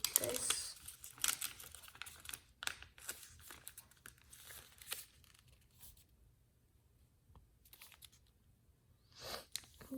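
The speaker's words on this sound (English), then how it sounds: "now I just fold this over and squash." Origami paper being folded and squashed into a model F-35 Lightning II jet: close crinkling and crisp rustling bursts, quieter in the middle stretch before a final crackle.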